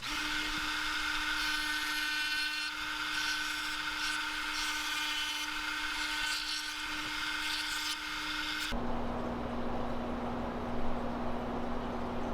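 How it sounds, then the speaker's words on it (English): A Dremel rotary tool carves fins on a handmade swimbait, a steady high whine that drops to a lower pitch near the end, close and continuous. "I have to stay right on that line with a Dremel, and it just doesn't want to be on that line."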